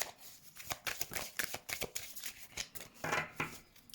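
Tarot cards being shuffled by hand ahead of a reading, a steady run of crisp riffling and slapping bursts close to the microphone, with no talking.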